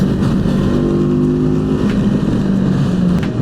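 A QJMotor SRT450RX motorcycle labors uphill at low RPM, its engine droning loud and close with a steady low throb and slight pitch shifts under the rider's load.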